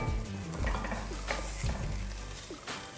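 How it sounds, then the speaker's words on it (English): Okra soup with stockfish stirred in a pot, with scraping and clinking of a spoon against the pot over a soft simmering sizzle, close and brief. "Give this a little stir."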